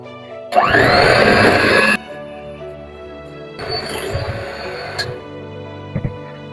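Blueberry muffin batter is mixed with a whisk in two loud whirring bursts, a longer one early and a shorter one later, separated by quiet, with light knocks near the end.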